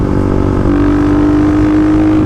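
A Kawasaki KLX351 motorcycle engine with a bored head pulls hard at high RPM. The drone is loud, steady and close, and its pitch rises gradually as the revs climb.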